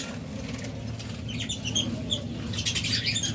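A pair of double factor spangle budgerigars gives scattered high chirps and twitters over a steady low hum, growing busier toward the end.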